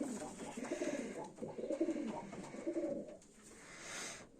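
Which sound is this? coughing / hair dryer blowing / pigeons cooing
pigeons cooing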